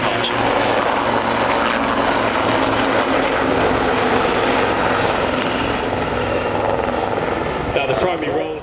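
A helicopter at the Cotswold Airshow builds backward momentum and swings through a reverse 180 into an over-the-shoulder departure, its loud, steady rotor and engine roar continuous, with a commentator talking over it on the PA.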